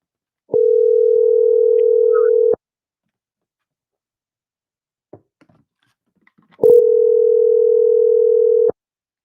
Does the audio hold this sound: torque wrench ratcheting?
no